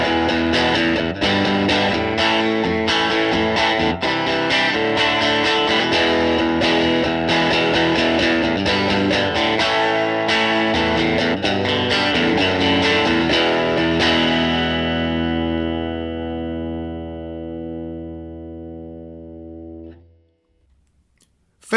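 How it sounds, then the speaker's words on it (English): An electric guitar plays through a modelled Fender '65 Super Reverb amp on a Fender Tone Master Pro, with chords and notes ringing through chorus-like effects and reverb, loud and continuous, then sustaining and fading to silence near the end. "the Super Reverb sounds something like this"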